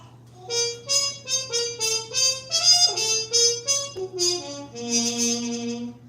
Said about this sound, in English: I have a super fun mute called a Harmon mute.